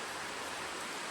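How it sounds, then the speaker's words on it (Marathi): Heavy rain pours steadily at an old temple in Konkan, a dense, even hiss filling the short moment with no other sounds. "चांगला जोरदार पाऊस आला आहे"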